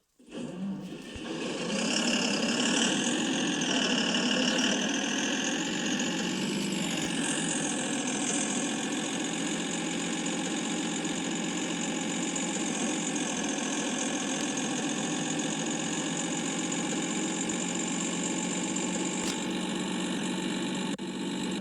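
Steady tractor engine drone in a video game, idling then running with a continuous mechanical hum and faint knocking texture, loud and constant throughout with no talk.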